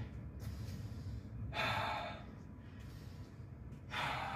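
Heavy, rapid breathing after a HIIT workout interval, with two loud breathy gasps standing out over a constant low rumble of background noise.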